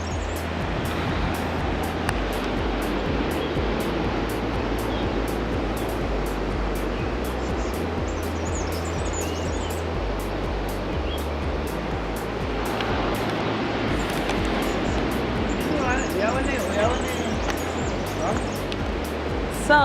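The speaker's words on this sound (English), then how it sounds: "Enjoying the sunshine and the sound of the waves." Ocean waves wash steadily onto a sunny beach at Plettenberg Bay, a continuous broadband roar of surf filling the scene without pause.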